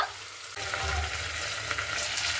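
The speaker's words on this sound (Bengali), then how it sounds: "তো আগে আমি আলু আর ফুলকপিটাকে খুব ভালো মতো করে কষিয়ে নেব।" Potatoes and cauliflower fry in a covered pan over low gas, giving a steady, soft sizzle with a faint scrape or shift partway through, close and without talk.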